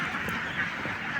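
Many ducks on a large duck farm quack and honk in a busy, continuous chorus, fairly distant and moderately quiet.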